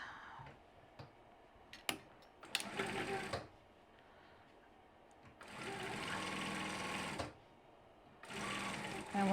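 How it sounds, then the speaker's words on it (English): A sewing machine stitches fabric for a project bag in quick bursts of rapid mechanical whirring and ticking, separated by pauses and small clicks, close and fairly quiet. "And we're just going to sew, sew, sew."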